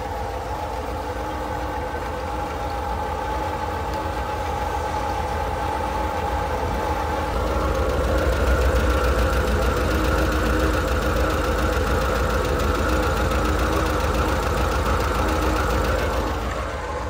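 A Volkswagen Kombi with a replacement engine idles steadily with a low, even throb and faint mechanical ticking, close up, growing slightly louder partway through, with no talking.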